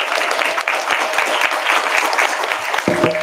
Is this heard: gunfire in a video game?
no